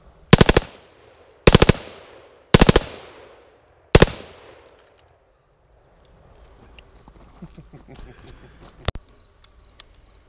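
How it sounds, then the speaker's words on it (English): A World War II Browning 1919 machine gun fires four short, loud bursts outdoors at close range, each ringing off into an echo, followed by quieter crackling and one more sharp report. "We are looking at a Browning 1919 general purpose machine gun from World War II."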